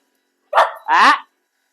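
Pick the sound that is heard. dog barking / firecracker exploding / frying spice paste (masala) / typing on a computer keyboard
dog barking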